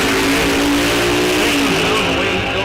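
A drag race car at Rock Falls Raceway during a bracket series runs down the track, its loud engine roaring continuously with a sustained high-revving drone that holds steady before easing slightly at the end.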